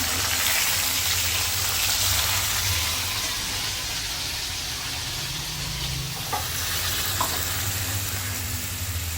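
Potatoes frying in a pan with added spices, a loud, continuous sizzle with occasional stirring scrapes and a low background hum, no talking.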